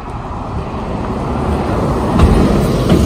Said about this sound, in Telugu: వెనకాల ఇప్పుడు మనకి ఒక బస్సు వస్తుంది, మీరు చూడొచ్చు